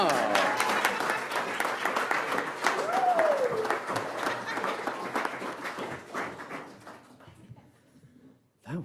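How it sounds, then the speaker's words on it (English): Congregation applause at a Sunday worship service after a stage set change, dense steady clapping that fades out toward the end, with a voice calling out and some talk over it. "give our set change a round of applause"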